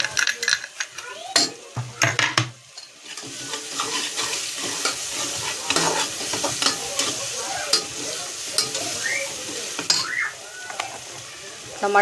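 Turmeric being stirred into spinach and potato in a hot pan, with steady sizzling and frying crackle plus repeated scraping and knocking of a utensil against the pan.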